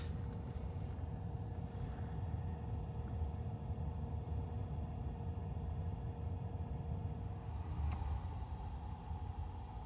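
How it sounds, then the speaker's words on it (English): Cooling fan on a Subaru WRX/STI running after a noise fix, a quiet, steady whooshing hum with a low engine-bay drone, constant and faint throughout with no speech. "Let's do the sound test of the fan."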